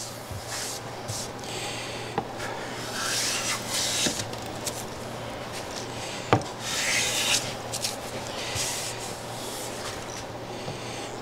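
A hand plane shaves a wooden picture frame with steady rasping strokes. Several sharper scraping passes rise above a constant low hum, and no one speaks.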